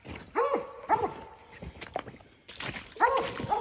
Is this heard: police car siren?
no